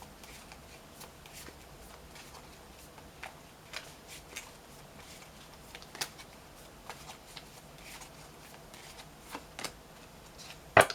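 Tarot cards are shuffled and drawn in a quiet room, giving faint soft riffles and scattered small card snaps and taps against low background hiss.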